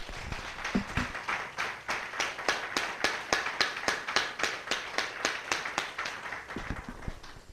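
Church congregation clapping in unison, a steady rhythmic beat of sharp claps roughly three per second, strong and even, fading slightly at the end.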